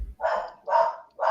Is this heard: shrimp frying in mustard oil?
no